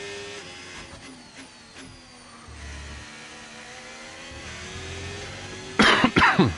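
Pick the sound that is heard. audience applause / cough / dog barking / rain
cough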